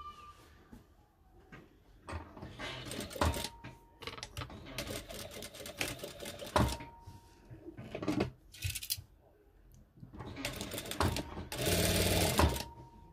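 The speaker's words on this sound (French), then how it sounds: "vous cousez jusqu'à l'autre extrémité au niveau de la tête" Sewing machine stitching khimar fabric with a 1 cm seam allowance, running in repeated loud bursts of varying length separated by short pauses, close to the microphone with no talking.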